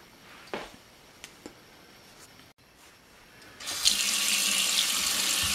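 Potatoes being handled in a kitchen sink, with a few quiet knocks and clunks before a tap opens into a loud, steady rush of running water that continues to the end.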